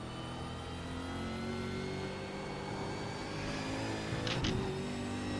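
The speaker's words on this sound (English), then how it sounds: "probably another little short shift there to help the car stabilise." A V8 Supercar engine in the iRacing game at Virginia International Raceway drones steadily at mid pitch, then briefly revs and dips as a short-shift gear change comes near the end, with no talk.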